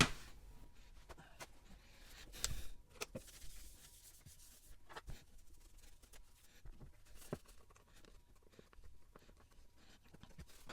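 Rubbing and wiping across the glass and casing of an iPad Air 1 during a cleanup, with soft irregular scuffs and a few sharper taps at close range, fairly quiet with no talk.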